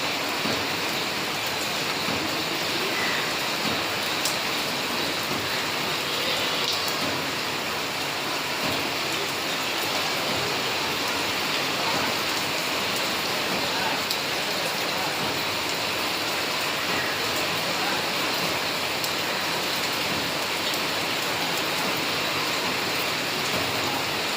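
Steady, dense rainfall hissing continuously on surfaces, even in loudness throughout with no voices.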